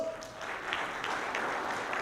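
Faint, thin applause from a quiet audience at a leadership talk, a soft patter of hands with a few sharper individual claps standing out.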